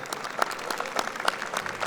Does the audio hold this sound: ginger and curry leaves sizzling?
no